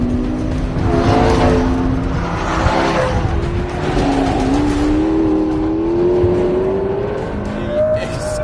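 A McLaren P1 supercar of about 900 horsepower accelerates hard on a racetrack, its engine note climbing loudly through the gears with rising pitch, close to the listener, and a tire squeal in places.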